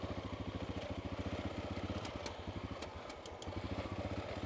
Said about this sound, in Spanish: Y ya escucháis a la moto el fallo que os comenté la semana pasada